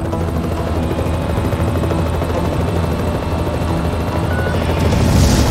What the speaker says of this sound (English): Michael, that helicopter is heavily armed.